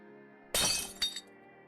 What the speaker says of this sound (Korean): 무엇인가 주방에서 유리가 깨지는 소리가 들렸습니다